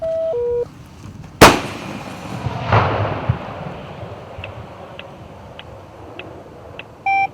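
A single sharp artillery shot fired by Russian forces near Kharkiv, sounding as one loud, sudden boom with a rolling echo that slowly fades, preceded and followed by short electronic radio beeps and faint, sparse clicks in the background.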